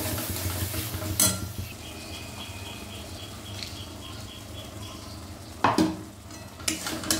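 A thick spice paste with fried-onion paste and a splash of water is stirred and fried in a pan for a fish curry, with a steady low sizzle and louder spoon scrapes and pan clatter in several bursts.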